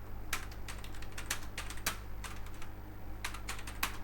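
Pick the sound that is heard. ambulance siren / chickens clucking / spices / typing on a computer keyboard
typing on a computer keyboard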